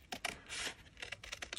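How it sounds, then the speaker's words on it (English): Scissors snipping through paper while cutting out a dress shape for a mixed media collage art doll, a quick run of close, crisp cuts and rustles with no talk. "I'm just going to cut this out with my scissors"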